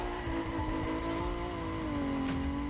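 A Ferrari F80 driving in The Crew Motorfest, its engine holding a steady, loud droning tone at near-constant revs with a slight pitch drop near the end, heard close and alone.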